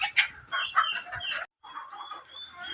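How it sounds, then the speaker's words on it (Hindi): A laying hen clucks in repeated close, loud bursts of cackling, with a brief pause in the middle before the clucking resumes. "देखिए उस मुर्गी की आवाज़ आ रही होगी आपको, अंडे देने वाली मुर्गी आवाज़ करती है वैसे"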